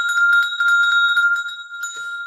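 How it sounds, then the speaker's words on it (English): Sleigh bells ring in a loud, bright, rhythmic jingle of quick repeated shakes, heard alone and close, tapering off at the end. "when we bring out the bells"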